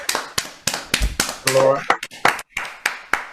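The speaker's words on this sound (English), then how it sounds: "Do we all agree that Laura deserves a huge round of applause?" A small group claps for a speaker after a talk on bats in the UK, sparse separate claps rather than a full ovation, heard under and between a voice speaking.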